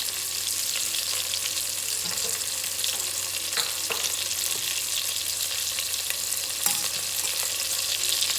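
Spices including turmeric and red chilli powder fry in a pan for spinach lentil daal, a steady close sizzle with occasional stirring clicks and scrapes, no voices over it.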